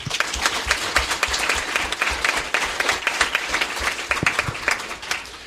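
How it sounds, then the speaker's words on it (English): A keynote audience at the When Words Collide 2012 gathering breaks into a loud round of applause, dense overlapping claps with sharp nearby hits standing out, continuing throughout. "give a round of applause for all the activities going on"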